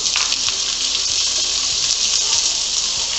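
Onions hitting hot oil with golden-browned garlic over a high flame, a steady bright sizzle and hiss that holds even and close without a break.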